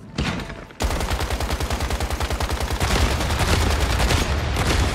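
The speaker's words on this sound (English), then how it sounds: "He's mortaring me." Rapid bursts of mortar and gunfire in a free MMO video game, loud and close, forming a dense fast rhythm of repeated blasts that runs continuously after a short pause.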